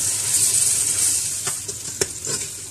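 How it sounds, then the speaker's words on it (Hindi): Onion, garlic-ginger paste and tomato frying in a pan for palak gosht, a close bright sizzle that fades slightly, with a couple of soft stirring taps near the end and no talk. "अब इसके अंदर हम ये लहसुन अदरक की पेस्ट डाल देंगे और साथ ही टमाटर डाल देंगे।"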